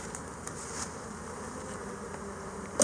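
A strong honeybee colony buzzes softly at an opened hive during an inspection, a low, steady hum that holds for a few seconds without talk.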